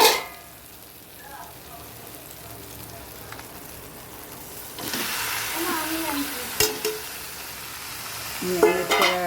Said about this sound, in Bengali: চিকেন দিয়ে দিলাম দেখো মাংসটা কষানো হচ্ছে